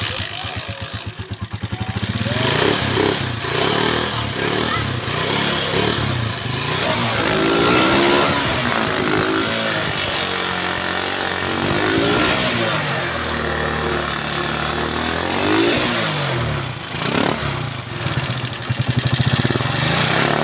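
A long-neglected motorcycle, its carburetor hose and filter just replaced, cranks with rapid starter pulses, catches, and settles into a loud steady running idle with small rises in revs, close by and mostly alone.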